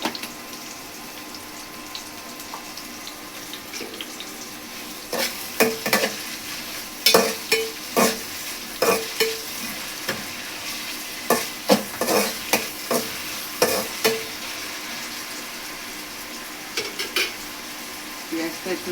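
Onions frying with salt in a pan while being stirred, a steady low sizzle broken by repeated scraping strokes of a spatula against the pan, close and fairly quiet.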